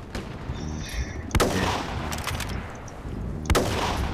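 Two sharp L96A1 sniper rifle shots ring out in a video game, evenly spaced, over a steady bed of in-game ambience with scattered smaller crackles.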